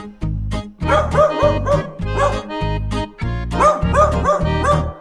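A voice imitates a dog barking in a steady rhythm of repeated woofs, loud and close, with a musical sing-song quality, as in a Polish children's song.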